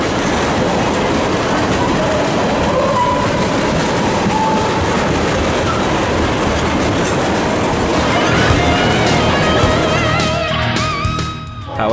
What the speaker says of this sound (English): Some enjoy the clickety-clack of the train wheels as they roll over a jointed segment of rail.